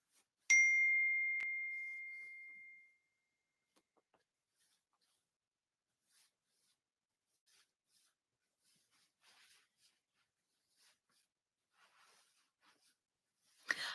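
A phone chimes once with a single bright, clear text-message ding that rings out and fades over a couple of seconds, followed by near silence with only faint scattered rustles.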